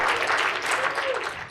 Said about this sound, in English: give yourselves a big round of applause for that dark humor